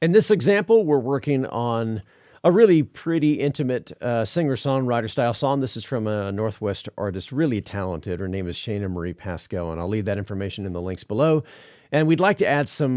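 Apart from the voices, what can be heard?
No everyday noise stands out behind the speech.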